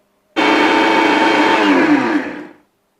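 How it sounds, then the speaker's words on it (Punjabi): A kitchen mixer grinder whirs loudly and steadily as it grinds milk powder and sugar, starting abruptly, holding for about two seconds, then winding down as it switches off. "ਤੇ ਹੁਣ ਆਪਾਂ ਸਾਰਿਆਂ ਨੂੰ ਗ੍ਰੈਂਡਰ ਕਰ ਲਈਏ"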